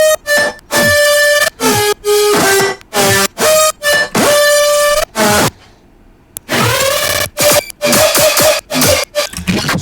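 Bright synth lead melody in the full drop of an electronic remix, loud and rhythmic with choppy sidechained pulses and a short break near the middle.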